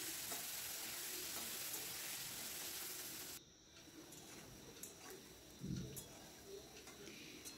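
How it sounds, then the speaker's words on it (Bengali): Potatoes rubbed with salt and turmeric frying in oil for a spinach and dried fish dish: a bright, steady sizzle that drops off sharply partway, leaving faint crackle and a low bump, quiet overall. "এরপর নুন হলুদ মাখিয়ে রাখা আলুগুলো ভেজে নেব।"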